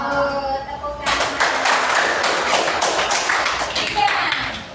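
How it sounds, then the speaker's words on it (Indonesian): Schoolchildren in an elementary classroom break into clapping after a brief voice, a sustained burst of many hands, near and fairly loud. "Tepuk tangan."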